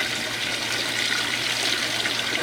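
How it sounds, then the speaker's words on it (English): Water pours steadily into a small DIY mini pond tank, a constant close hiss and rush of flow with no break and no voices. "We have water flow in the tank through all of our padding"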